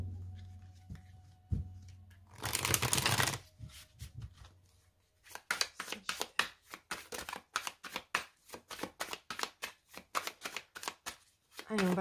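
Tarot cards being shuffled by hand in a run of quick, crisp riffling bursts, close and fairly loud, with a dense stretch of rapid flicking and no talking.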